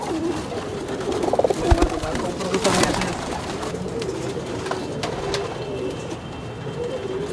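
Racing pigeons at a champion flying loft coo in soft, repeated throaty murmurs amid steady background noise, with a few sharper clatters near the start.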